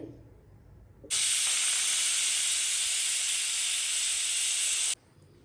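A pressure cooker with chana dal inside lets out a single loud, steady hissing blast of steam lasting about four seconds, starting and stopping abruptly against a quiet background.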